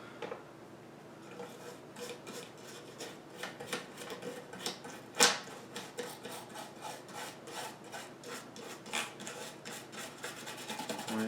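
A brush scrubs lint and dust off an MSI GTX 1060 graphics card, making soft, steady rubbing and scratching strokes close by, quiet and rhythmic with one brief sharper scrape midway.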